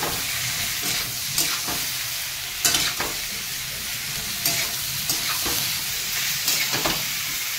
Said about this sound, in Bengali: এই সিদ্ধ কচুগুলো দিয়ে দেবো, ভালো করে ভাজতে হবে কালো জিরের উপরে